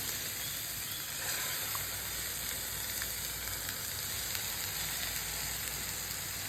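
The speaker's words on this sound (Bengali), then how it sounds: "তারপর টমেটো যতক্ষণ না কাঁচা গন্ধটা চলে যায় ততক্ষণ পর্যন্ত কষিয়ে নেব" Tomato paste sizzles in a frying spice mix with an even, moderately quiet hiss and faint occasional crackles throughout, with no talking.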